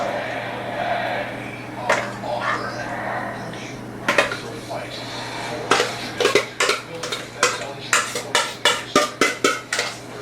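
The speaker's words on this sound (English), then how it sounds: "And we just want to spoon this over as our 3rd layer." Thickened lemon filling is spooned over a dessert layer, giving a run of sharp metal-on-dish taps and scrapes that turn into a quick repeated clatter near the end, with some background voices.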